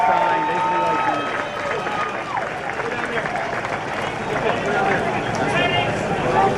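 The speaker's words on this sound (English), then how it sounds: "Give him a round of applause" A crowd on a cruise-ship Q&A stage claps and cheers for a fireman, with dense, steady applause filling the room and voices mixed in throughout.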